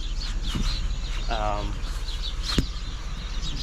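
Birds chirp and tweet intermittently in the distance over a steady outdoor hum, with a brief trilling call and a sharp click midway.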